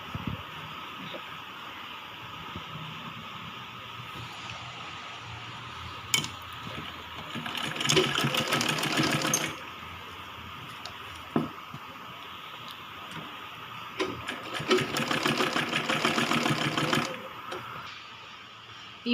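A sewing machine stitches a baby frock in two long runs of rapid, steady whirring, separated by quieter pauses with faint handling clicks and a constant background hiss.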